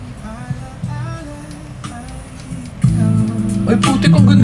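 Music plays from an FP-267BT Bluetooth radio speaker, heard in the room with tonal melody and rhythm, growing louder partway through, and a person talks briefly over it.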